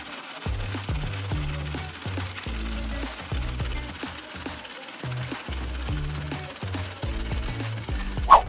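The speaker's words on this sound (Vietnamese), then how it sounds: "Việc còn lại là đợi đá được xay nhuyễn ra thôi" A shaved-ice machine grinds ice for a dessert at a tokbokki buffet, giving a rattling, pulsing mechanical churn with repeated low knocks that runs steadily throughout.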